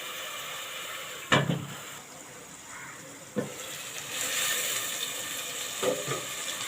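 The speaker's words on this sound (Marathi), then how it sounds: "फोडणी चांगली तेल सुटेपर्यंत शिजवून घेणार आहोत" An onion-tomato tempering cooks in oil under a lid, giving a soft continuous sizzle with a few brief clinks and knocks, fairly faint and close.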